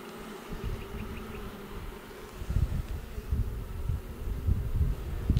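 Honey bees buzz densely around an open hive with queen cells, a close, continuous drone that swells and thickens toward the end, with occasional soft handling bumps.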